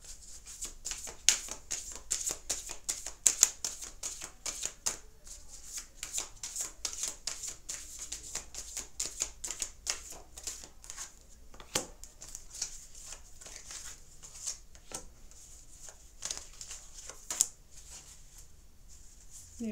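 Oracle cards shuffled for a reading give a long run of quick, crisp riffling flicks and slaps, close and steady, with a few sharper snaps and no talking.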